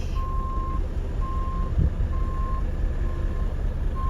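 A truck idles on a farm while hay is loaded, its reversing alarm repeating steady evenly spaced beeps over a low engine rumble, with one brief thud partway through.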